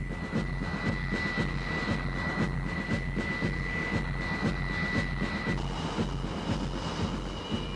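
A Fairchild A-10 Thunderbolt II jet roars steadily and loud throughout, its broad engine rumble carrying a sustained high whine that drops pitch near the end, with no talking.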